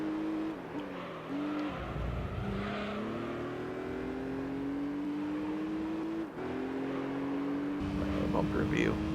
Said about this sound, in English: Hear those Hondas behind me.